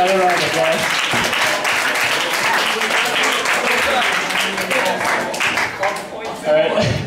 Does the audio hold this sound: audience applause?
yes